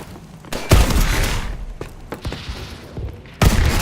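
Gunfire in a video game: several sharp bursts and booming shots with a thudding impact, loud and close, separated by quieter gaps of game noise.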